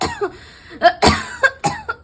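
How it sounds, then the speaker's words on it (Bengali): A sick patient at a doctor's consultation coughs repeatedly, about five sharp, close, loud bursts in quick succession, with brief pauses between them. "আপনার তো খুব শরীর খারাপ দেখছি, খুব কাশি হয়েছে।"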